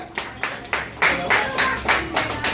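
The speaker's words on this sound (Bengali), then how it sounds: "তো জোরে হাততালি দাও।" Students clap together at a school programme, a handful of loud synchronized claps in a slow, steady rhythm, close and distinct.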